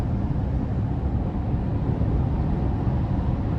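Steady, even road roar inside a 2025 GMC Sierra 2500HD AT4 heavy-duty pickup at speed, a constant low broadband hum with no talk over it.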